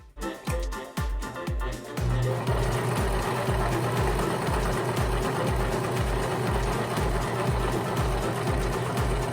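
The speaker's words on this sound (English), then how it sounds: "when you come around the corner with your serger and go up this way" A Brother 1034DX serger stitching fabric around a corner of a mat, a loud rapid mechanical chatter with a steady rhythmic thump, starting in short bursts then running continuously.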